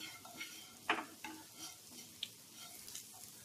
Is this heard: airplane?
no